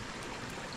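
Water running and draining through a flooded rice field, a steady close rushing and gurgling flow with no voices.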